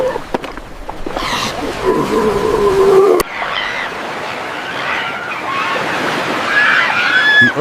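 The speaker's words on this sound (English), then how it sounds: "The ocean surface ripples." Ocean waves off Alaska wash and roar in a continuous broad rush, loud and close, with brief sharp knocks near the start and faint tonal cries layered in.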